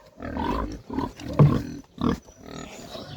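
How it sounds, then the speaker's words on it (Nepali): Pigs being fed rice on a farm squeal in several loud, close bursts, one after another with short gaps, and their calls overlap into a noisy chorus. "सुँगुरहरु कराउन थाल्छ"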